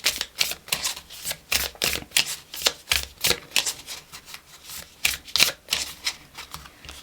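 Oracle cards are shuffled by hand in a fast, crisp flurry of clicking and flapping, close and fairly loud, in uneven bursts with no talking.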